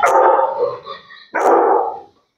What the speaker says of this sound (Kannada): ಇಲ್ಲಿ ನಾಯಿಗಳು ಸಿಕ್ಕಾಪಟ್ಟೆ ಸಾಕೊಂಡಿದ್ದೀರಾ?